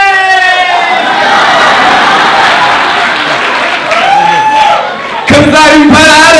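An audience at a contest cheers loudly for a contestant, with a roar of shouting, whoops and clapping that holds steady, dips briefly, then bursts back in with high-pitched screams near the end.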